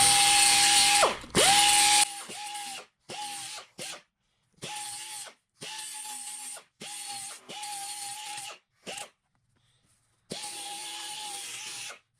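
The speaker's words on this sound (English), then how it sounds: "now I'm just going to take a little angle die grinder with a flapper wheel. And just clean this up" A small angle die grinder fitted with a flapper wheel cleans up metal in repeated short bursts, its high whine spinning up and cutting off again and again with brief silences between, close and loud, with no voices.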